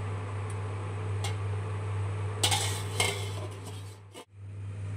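Lid set onto a pot of boiled milk on a gas stove just switched off, giving a few light metallic clinks and taps over a steady low kitchen hum, with one louder clatter midway.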